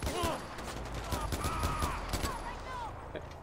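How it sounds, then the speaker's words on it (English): Rapid bursts of gunfire ring out while shooting an enemy in Far Cry 4, rattling in quick repeated shots at close range, with voices talking over the shooting. "I'm gonna shoot you right in the bum"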